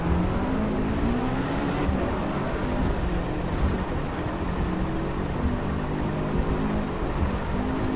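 A car engine in the racing game DRIVECLUB, a steady loud drone holding at high revs with only slight pitch shifts and no voices.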